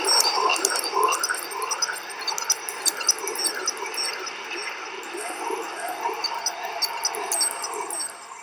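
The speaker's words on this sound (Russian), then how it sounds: "Вот это звук гравитационных волн." Gravitational wave signal converted into audible sound, an airy, shimmering whoosh with repeating rising chirp-like sweeps over several seconds, heard on its own.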